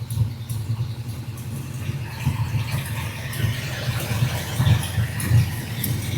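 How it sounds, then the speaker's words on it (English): A 1967 Dodge Coronet R/T 440 V8 idles steadily up close with its engine bay open, a low rumbling drone joined by the whir of the auxiliary cooling fan, with a few faint squeaks on top. "Cooling fan has cut, the auxiliary engine fan has cut in."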